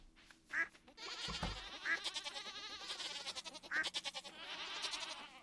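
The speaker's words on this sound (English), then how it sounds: "This one over here is goat" Goat bleats from the Stardew Valley farming game, three short nasal cries spaced about a second apart over busy game music and ambience, fairly loud and close.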